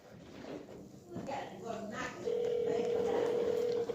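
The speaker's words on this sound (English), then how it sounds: "Let's get Tay-Rock real brother on the phone" A phone call is dialed, with brief tones and rustling followed by a steady, clear ringback tone that sets in halfway and holds to the end, while a voice speaks quietly near the start.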